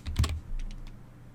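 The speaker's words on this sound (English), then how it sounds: "from Settings, you type Storage Sense." A few quick keystrokes clatter on a computer keyboard, close and crisp, in a short burst with no voices.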